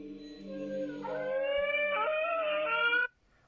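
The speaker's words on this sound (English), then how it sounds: "the figure seems to have disturbed some neighbourhood dogs that can be heard barking in the background" A long, wavering, howl-like canine cry rises and holds for about three seconds before cutting off, with a steady tone and no speech.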